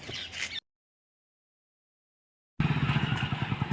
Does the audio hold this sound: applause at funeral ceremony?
no